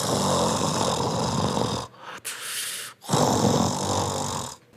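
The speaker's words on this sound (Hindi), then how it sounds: "वो तो ऐसे खर्राटे ले रहा था जैसे घोड़े बेचकर सोया हो।" A cartoon tree in a children's story snores loudly in deep sleep, with long rasping snores broken by a couple of brief pauses.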